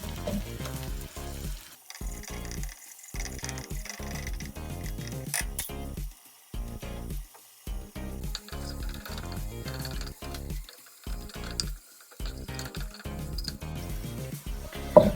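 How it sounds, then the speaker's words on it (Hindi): Onions for Bombay biryani fry in a pan with a continuous close crackle and sizzle, broken by brief gaps and stirring, and no voices. "प्याज जो है उसको मैंने फ्राई कर दिया है"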